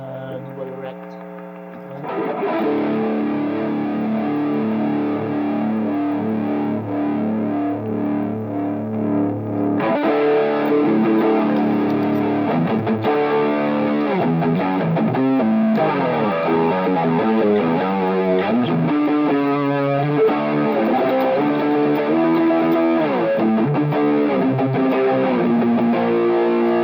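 Electric guitar through a NUX MG-300 on a heavy distortion patch with a Dual Rectifier amp model: loud, saturated rhythm chugging and chords that play continuously, with a brief quieter start.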